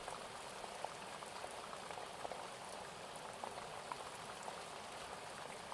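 A duck splashes softly in a pond at night, gentle irregular sploshes and drips over a faint steady watery hiss.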